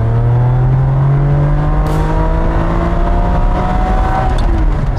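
Ferrari 550 Maranello V12 idling and revving while warming up, a steady loud mechanical drone whose pitch rises and falls gently, close and continuous with no voices over it.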